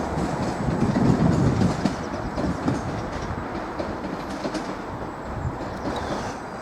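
Class 745 train 745106 pulling out of platform 2 at Norwich station, bound for London Liverpool Street, a steady rumble and clatter of wheels on rails at moderate loudness that fades slightly as it leaves, with no voices.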